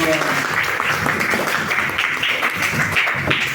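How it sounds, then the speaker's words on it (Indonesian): Children clapping their hands during a classroom lesson on honoring parents, a dense, steady patter of many small hands close by, with voices talking over it throughout. "Tepuk tangan dong."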